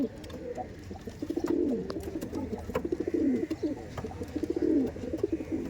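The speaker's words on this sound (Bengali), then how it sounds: "দেখেছেন সমস্ত পায়রা এমন অ্যাক্টিভ।" Several Madras pigeons in a loft coo close by, overlapping in repeated throaty, rolling calls, with occasional flutters and faint clicks in the background.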